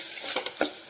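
Ginger garlic paste fries in a pan for aloo matar pulao, a soft sizzle broken by three or four quick scraping stirs close by, with no talk.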